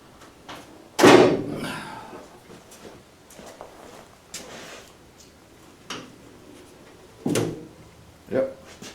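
An MGA sports car door, under restoration with its body being assembled, swings shut and latches with one loud close near the start. Several softer knocks and clicks follow as the door is handled, and there are short bursts of nearby talk.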